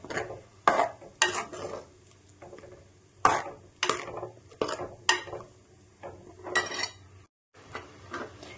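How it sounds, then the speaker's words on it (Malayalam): Ground coconut paste being stirred into a jackfruit seed and mango curry in a pot, with irregular close clinks and scraping knocks of a spoon against the vessel, no talking. "നമ്മൾ അരപ്പ് ചേർത്ത് ഇനി നമുക്ക് ഇളക്കി കൊടുക്കണം"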